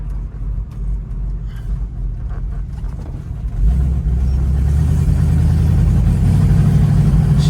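A 1972 Oldsmobile Cutlass engine runs with a deep, steady rumble that swells louder and heavier partway through as it revs, continuous and close with no talking.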